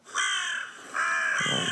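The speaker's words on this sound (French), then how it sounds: "ça, c'est corneille noire" Carrion crow calling with two loud, harsh caws in close succession, the second longer and rougher, near and clear with no other sounds.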